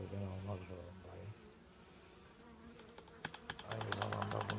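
Honeybees drone and buzz steadily at close range around a queen bee cage, with intermittent voices and some light clicking and tapping mixed in.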